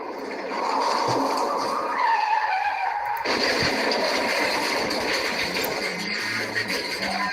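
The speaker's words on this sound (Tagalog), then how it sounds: "Vehicular accident." Car tires skid and squeal in a simulated vehicular accident, a loud sustained screech that changes character partway through and continues with engine and road noise.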